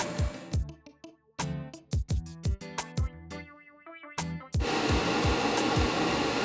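An 8-inch inline duct fan rated at 740 CFM and drawing about 2 amps: a string of sharp knocks and clatters, then a steady, loud rushing whoosh of airflow takes over for the final seconds.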